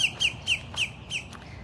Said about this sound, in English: Lots of birds out this morning